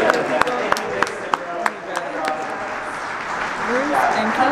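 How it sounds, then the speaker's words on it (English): Scattered clapping from a small crowd at an RV entrepreneur summit, a few sharp claps over murmuring voices, with talk continuing throughout. "please give up a round of applause"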